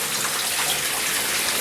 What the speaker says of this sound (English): this is a good ass shower